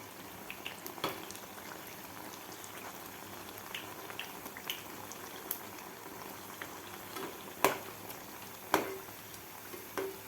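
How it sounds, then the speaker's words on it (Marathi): Jalebi frying in hot oil, a steady dense sizzle and bubbling with a few sharper pops, heard alone without talk. "व्यवस्थित दोन्ही साईडकडून आपली जिलबी अशी तळलेली आहे"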